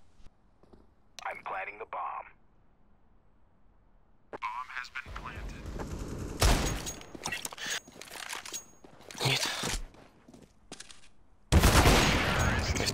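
Rapid gunfire bursts from a Counter-Strike match on the Anubis map, loud clustered volleys and single shots coming in waves, with voices talking over the action between bursts.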